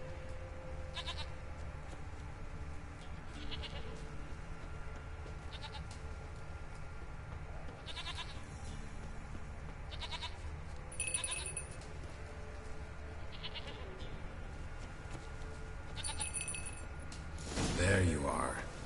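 A goat in the Witcher 3 video game bleats in short, faint, repeated calls against a low ambient hum, while someone talks intermittently over the scene.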